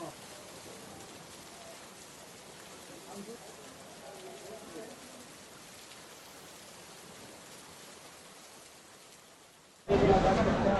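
Light rain falls near the Bhairav temple on the Kedarnath trek, a steady soft hiss of drops that continues evenly, then turns abruptly louder and closer near the end.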